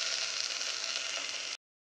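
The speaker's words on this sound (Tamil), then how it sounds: "இதையும் இதோடு சேர்த்து லேசாக வதக்கிட்டு" Chopped drumstick, carrots, beans and potatoes sauté lightly in a pan, giving a soft, even sizzle that runs steadily at moderate volume and then cuts off abruptly.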